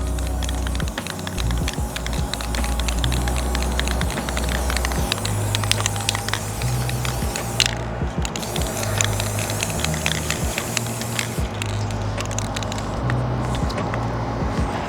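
An aerosol can sprays a light coat of paint onto a metal faucet, a continuous close hiss broken by short pauses and bursts, with a low hum underneath and no talking.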